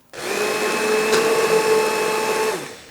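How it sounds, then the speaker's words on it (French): A blender whirs through tomato soup with basil, a steady close motor drone of about two and a half seconds that starts abruptly and winds down at the end, with no voices. "on ajoute nos 2 cuillères à soupe de basilic et on va le mixer avec le reste à la fin seulement"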